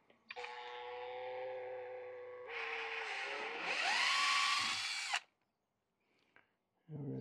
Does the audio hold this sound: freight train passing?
no